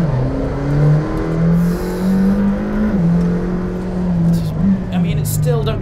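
800hp McLaren Senna hypercar under way: a steady engine drone that rises and falls slightly in pitch, with a whine on top, running under continuous talk from a person inside.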